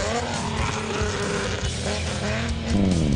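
An off-road production race car, number D20, pulls away right after the start of the Lichtenburg 200, its engine roaring loud and close with rising revs and a gear change near the end.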